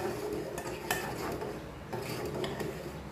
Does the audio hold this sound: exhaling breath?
no